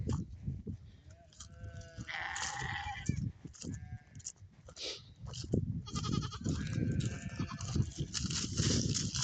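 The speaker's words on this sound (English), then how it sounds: "These are John's rams" Rams bleating on a farm, several loud nasal calls overlapping and repeating close by, over rustling, shuffling movement and farmyard noise.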